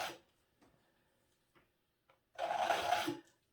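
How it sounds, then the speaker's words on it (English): Mud-textured acrylic paint being scraped off a poured seascape surface, a short rasping scrape near the end after a few faint ticks and taps. "So I'm kind of scraping off the mud here."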